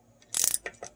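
A socket ratchet works on bolts on a Yamaha 90hp outboard water pump, giving a quick burst of close, crisp metallic clicks, then a couple of softer clicks, all within one second.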